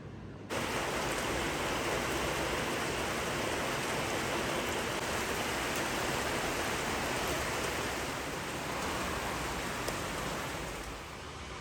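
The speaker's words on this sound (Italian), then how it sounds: "Senti come piove, figli?" Steady rain falls outside in the mountains, an even, dense hiss that starts abruptly and runs unbroken at moderate loudness throughout.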